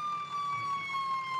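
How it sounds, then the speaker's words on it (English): Emergency vehicle siren in the Roblox game First Response, a steady high wailing tone held with slight pitch drift, moderately faint over a low background rumble. "Turn your sirens off."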